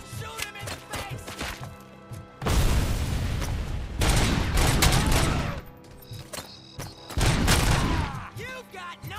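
Sustained bursts of heavy automatic gunfire in RoboCop: Rogue City, loud rapid volleys of several seconds each broken by short gaps, with booming impacts and faint voices between bursts.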